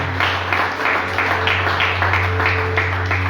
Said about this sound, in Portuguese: Dê uma linda salva de palmas para Jesus, porque Ele merece essa.